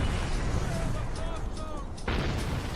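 Tank guns firing in a video game, a dense rumbling barrage of booming shots and low blasts with a sharp burst near the end, thick and loud throughout, with a voice speaking over the noise.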